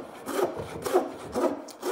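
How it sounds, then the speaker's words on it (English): A tenon saw cuts down into wood to a gauged baseline on a bench, with several rhythmic close strokes of rasping saw teeth. "I can take my tenon saw and I would saw down to my baseline."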